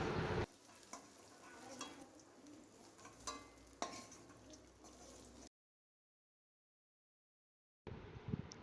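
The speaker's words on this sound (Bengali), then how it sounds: "এরপর আলুগুলো ভেজে নিচ্ছি এক এক করে।" Potatoes frying in oil in a pan give a steady close sizzle with faint stirring scrapes, broken by a few seconds of dead silence before the sizzling resumes.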